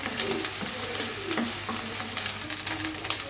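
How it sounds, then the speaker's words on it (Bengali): Dried fish (shutki) fries in a pan, giving a steady close sizzle with scattered crackles and light stirring scrapes throughout, with no talking. "শুটকিগুলোকে একটু ভেজে নিতে হবে যাতে শুটকির যে স্মেলটা সেটাও চলে যায়"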